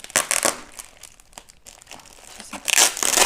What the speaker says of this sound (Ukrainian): я знайду скотч, буду вам шелестіть, шуршать